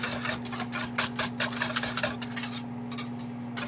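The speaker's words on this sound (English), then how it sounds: "I'm just going to whisk the tomato paste in the water." Wire whisk scraping and clinking rhythmically against a bowl while tomato paste and enchilada seasoning are stirred into water, steady close-up strokes over a constant low kitchen hum.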